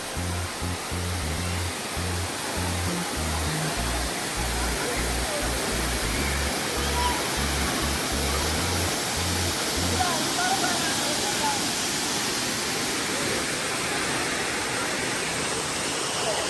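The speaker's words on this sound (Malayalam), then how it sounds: "നല്ല ഹൈറ്റിൽ നിന്ന് വെള്ളം പോകുന്നുണ്ട് കേട്ടാ" A loud, steady roar of water dropping from a great height at Thusharagiri Waterfalls, Kozhikode, fills the whole clip, broad and constant, with a low rumbling pulse underneath in the first half.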